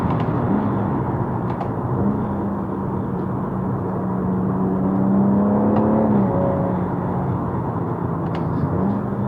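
A BMW M140i accelerates hard through third, fourth and fifth gears on paddle shifters, heard from inside the car as a steady engine drone that rises in pitch, with brief dips at each upshift.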